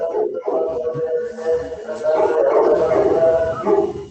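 Several dogs bark, whine and howl in a noisy jumble that overlaps with people talking during a broadcast discussion on urban mobility.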